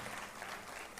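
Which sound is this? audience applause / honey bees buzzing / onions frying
audience applause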